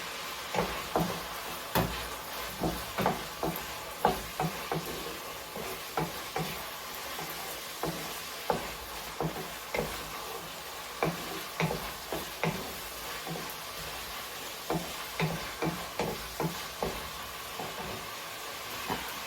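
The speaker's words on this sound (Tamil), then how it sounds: "இப்போ பாருங்க, இந்த இறைச்சி வதங்கிட்டுது. இப்போ நான் கேரட்டை போட போகிறேன்." Chicken and carrots sautéing in a pan, a constant sizzle punctuated by a quick, regular run of spatula scrapes and taps against the pan.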